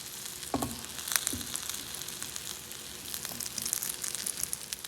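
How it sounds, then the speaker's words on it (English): A soft, steady sizzle of a biscuit frying in butter in a pan, with a couple of faint clinks near the start and no voices. "The biscuit is frying up in butter."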